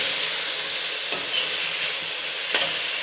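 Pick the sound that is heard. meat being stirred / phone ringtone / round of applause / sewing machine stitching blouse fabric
meat being stirred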